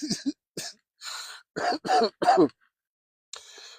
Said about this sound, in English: the cough is definitely coming through now.